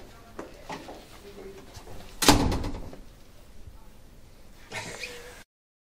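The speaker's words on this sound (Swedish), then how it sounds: "Jag kan stänga dörren." A door inside an office at Google's Swedish head office shuts with one firm, fairly close thud. Faint room noise and a quieter knock follow a few seconds later.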